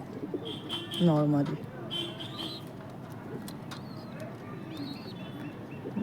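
Pigeons kept for sale give a short throaty coo near the mic, with a few faint chirps around it, over steady background noise while someone talks.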